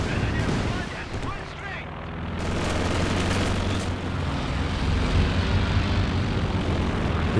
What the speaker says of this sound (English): Recon plane up again from Ender.